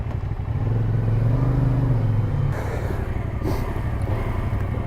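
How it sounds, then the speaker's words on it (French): A CF Moto 450SR sport motorcycle engine running close by, a steady low rumble that rises in pitch as it revs, then settles back to a rough idle with some mechanical clatter. "on va essayer le petit 450 SR de chez CF Moto"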